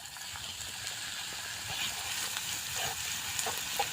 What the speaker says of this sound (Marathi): तेल छान गरम झाले आता आपण झिरो टाकायचं अगोदर आणि लसूण जो मीठ ठेसलेला आहे जाडसर तो लसूण टाकायचा आहे